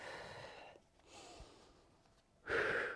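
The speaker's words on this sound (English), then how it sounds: "Nice deep breath through the nose." During a strength and mobility workout, a person takes a deep breath in through the nose, with soft airy breathing that swells and fades, ending in one louder, closer inhalation.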